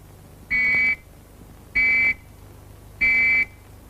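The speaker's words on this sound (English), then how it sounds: "Or 3 whistles like this." Three identical whistle blasts, each about half a second long with short even gaps, sounding the fallout warning signal of the 1970s UK civil defence system, loud and clear with no talk over them.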